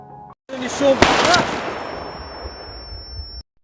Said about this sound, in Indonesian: Mereka memberikan tembakan balasan, namun mereka hanya bisa menembak tak tentu arah